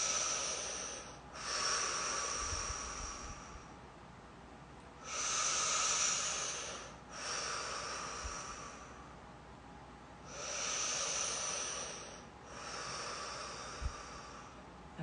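Slow, deep breaths drawn in and out through the nose during a seated thyroid release exercise, three long airy hissing cycles close to the mic at an even, relaxed pace.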